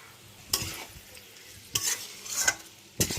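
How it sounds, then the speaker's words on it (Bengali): Vegetables are stirred with fried coriander and cumin powder and a little sugar in a pan for vegetarian chow mein, giving four distinct scraping strokes spaced over a soft background sizzle, close up with no speech. "ধনের গুঁড়ো এবং জিরের গুঁড়ো দিয়ে ভালো করে সবজিগুলো নাড়াচাড়া করে নিলাম"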